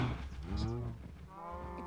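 Cows mooing in the Minecraft video game, a drawn-out low lowing call followed by a second moo, close and fairly loud over a quiet background.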